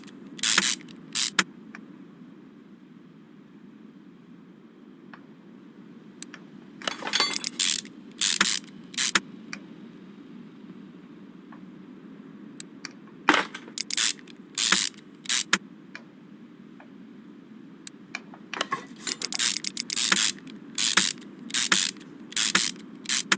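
A ratchet in the Car Mechanic Simulator 2021 video game unscrews bolts in rapid clicking bursts, separated by quiet stretches over a steady low hum.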